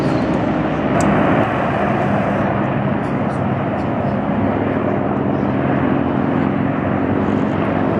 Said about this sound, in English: here are the helicopters flying in formation